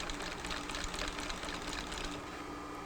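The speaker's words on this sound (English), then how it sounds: "I'll backstitch and continue sewing." A cylinder-bed sewing machine stitches two pieces of fabric, giving a steady, close mechanical whir with fast needle clatter that runs continuously and evenly throughout, with no talking over it.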